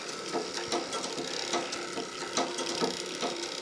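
An antique Husqvarna Freja sewing machine winds a bobbin, its mechanism running with a steady, close clicking and whirring rattle of gears and pawl, regular light ticks repeating throughout with no voices.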